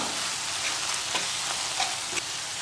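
Masala for a mushroom gravy sizzles continuously in a pan on low heat, with soft scraping stirs and light taps of a spoon running through the close, even frying hiss.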